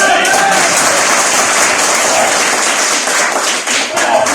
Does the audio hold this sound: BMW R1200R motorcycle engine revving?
no